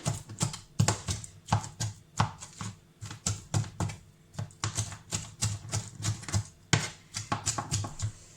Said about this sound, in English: So you chop one way and then you chop the other way